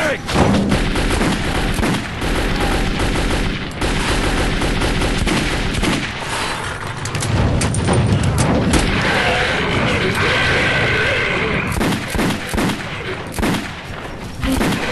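Heavy, continuous gunfire in Metro 2033, dense automatic bursts and booming shots layered over each other for the whole stretch, loud and close with little letup.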